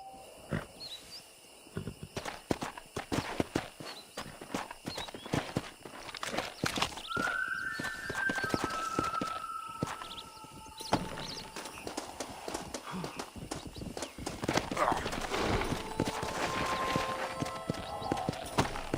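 Horse hooves clip-clopping in the video game Red Dead Redemption as a steady series of hoof knocks amid game ambience and an occasional whinny, with a player speaking at points.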